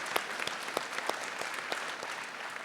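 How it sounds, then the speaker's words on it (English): An audience at a college convocation ceremony claps steadily, a brisk patter of many hands at moderate distance with no voices over it. "Please give them a round of applause for their dedication to the college."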